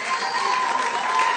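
Steady applause from a live audience honoring J.R.R. Tolkien, a dense even wash of many hands clapping throughout at moderate loudness, with no break or lull.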